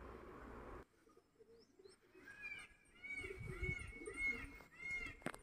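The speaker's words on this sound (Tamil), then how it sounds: "இருக்குல்ல, இது புது புறா." Pigeons in and around a backyard coop give soft repeated coos and a few chirps, fairly close, with a stretch of steady background noise at the start.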